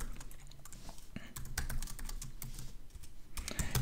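Rapid, uneven keystrokes clatter on a computer keyboard while C code is typed, with short bursts and brief pauses, close and clear with no voice over them.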